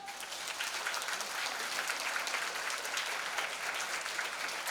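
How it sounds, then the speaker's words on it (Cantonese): An audience gives school choirs a steady round of applause at a joint school music concert. The clapping is dense and even throughout and sounds slightly distant, with no voices over it. "我哋俾啲掌聲佢哋啊"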